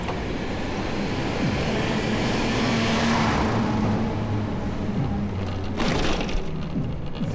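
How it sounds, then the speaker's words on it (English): A garbage truck rumbles along a city street at night in Forest Hills, a steady low engine drone with a brief hiss of air brakes near the end, heard from a passing vehicle. "Sounds like we have a garbage truck."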